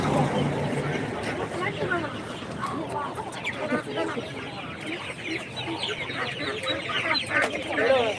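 Dense, overlapping clucking from many chickens fills a crowded market, steady and moderately loud throughout, mixed with a murmur of nearby human voices and general bustle.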